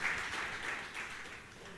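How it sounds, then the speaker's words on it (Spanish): Congregation applauding in a church service, a soft, steady wash of clapping that fades slightly over a couple of seconds, fairly distant and quiet. "alabe al Señor, de un aplauso"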